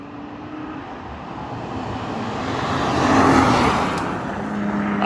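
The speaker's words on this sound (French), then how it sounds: "Et je vais vous filmer la voiture passer tout simplement." A Nissan GT-R R35 drives past on a road, its engine swelling from a distant rumble to a louder pass and then fading, with no talk during the pass.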